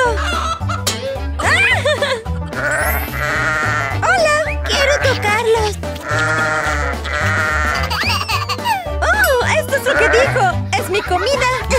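A cartoon goat bleats repeatedly in a children's farm story, loud and sustained, with bright music throughout and cheerful voices chattering and laughing.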